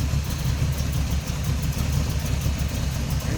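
A 1932 Chevrolet Master Roadster street rod with headers idles close by, its engine giving a smooth, even, continuous rumble with no one speaking.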